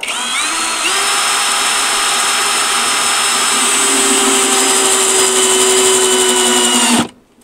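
Power drill driving screws into a wooden chicken nest box: one continuous loud whine that climbs in pitch as it spins up, holds steady for about seven seconds, then stops abruptly, heard close and alone.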